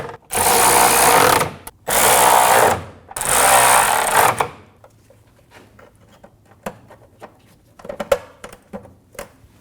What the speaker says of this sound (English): Go around and snug down all of the nuts.